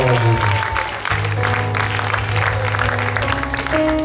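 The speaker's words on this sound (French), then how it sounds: "Acclamez le Seigneur." A church wedding congregation applauds, sustained loud clapping mixed with music and voices that carries on throughout.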